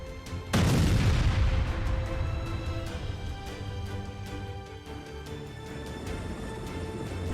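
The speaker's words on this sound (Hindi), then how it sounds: "आतंकियों ने धमाका कर दिया है" An explosion on a hijacked cruise ship, one heavy boom that hits suddenly and rolls on in a long rumbling tail under a sustained tonal bed, with no voices.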